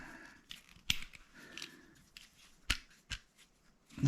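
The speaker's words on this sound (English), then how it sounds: "Let's trim that off because it's so mangled." Scissors snip off mangled string on a bat-house chimney, giving a few sharp, close cuts amid soft handling rustle and no talk.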